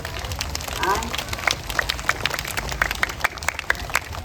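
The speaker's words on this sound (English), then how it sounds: "A big round of applause for them once more." Applause from a school assembly audience of students and staff, a patter of scattered claps in a hall, moderately loud and close, with a voice briefly speaking over it.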